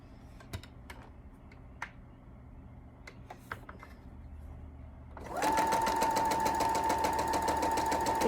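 A sewing machine stitches a quarter-inch seam on a quilt block, starting after a few quiet handling clicks and then running loud and steady at close range.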